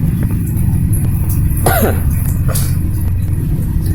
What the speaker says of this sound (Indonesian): ini saya lagi batuk-batuk